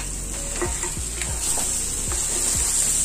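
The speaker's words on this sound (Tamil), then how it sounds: "நண்டு ஆட் பண்ணி நண்டை கொஞ்சம் நேரம் போட்டு நல்லா ஃப்ரை பண்ணிக்கோங்க" Crab pieces frying in a pan with a loud continuous sizzle, while a spoon stirs them in quick, evenly spaced scrapes that give several low thuds across a few seconds, up close and with no talking.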